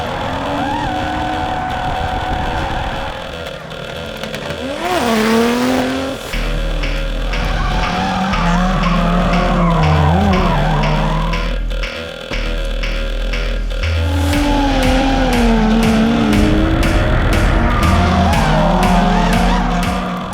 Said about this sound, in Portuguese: Se são apaixonados por automóveis, provavelmente gostam de carros a fazer drift